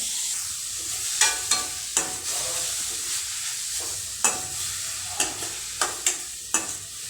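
Grated carrot roasting in ghee, with a steady close sizzle and repeated rhythmic spatula strokes scraping through the pan about once a second; no talking.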